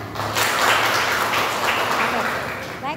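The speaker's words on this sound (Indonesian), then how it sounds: "Mungkin teman-teman bisa berikan tepuk tangan untuk Amel." Students in a university teaching session give a brief round of applause for a classmate named Amel, a short burst of clapping that swells and fades within a few seconds.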